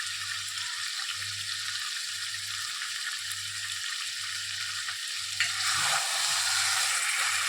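Meat frying with ground spice paste for Bengali kosha mangsho, a loud, steady close-up sizzle that continues without pause and swells slightly louder toward the end, no one speaking.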